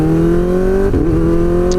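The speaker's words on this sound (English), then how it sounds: "This thing revs so high, it's so unrestricted, it's so loud." A Kawasaki ZX-4RR motorcycle with a loud, unrestricted aftermarket exhaust holds a steady, high-pitched scream at high revs, with a brief dip and recovery midway, close and very loud throughout.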